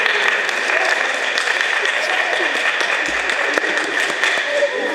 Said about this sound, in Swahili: Utulivu, mpigie makofi.